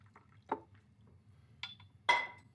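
Chicken broth poured from a jug onto a plated dish in a kitchen, heard as a few short, quiet liquid splashes and drips separated by near silence.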